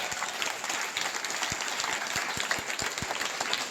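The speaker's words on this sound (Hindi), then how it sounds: "इतने कंजूस लोग हैं, ताली कितनी धीरे धीरे बजाते हैं।" Sparse, slow clapping from a small audience at a centre, individual claps spaced irregularly over a steady background murmur, moderately close and fairly quiet.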